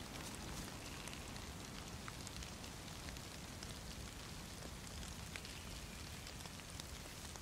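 Steady rain in the DayZ video game, a dense continuous hiss of drops falling on surfaces with no break or shift in loudness.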